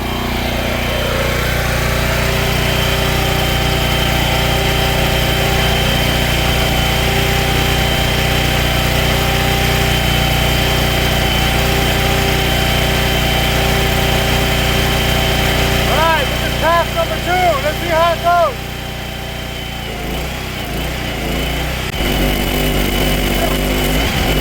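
A Lincoln Bulldog 5500 welding machine's engine idles steadily and loudly up close for the whole stretch, with brief squealing tones partway through and a slight shift in the drone near the end.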